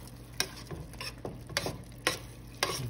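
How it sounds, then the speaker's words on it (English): Matbucha vegetables stirred in vegetable oil in a pot, with several scraping clicks of the spoon at irregular intervals over a soft, steady sizzle. "Give it a nice stir"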